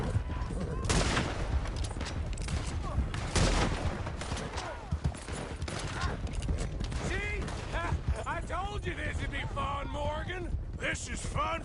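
Bursts of gunfire in Red Dead Redemption 2, repeated loud cracks and volleys close by, with shouting voices and game noise throughout.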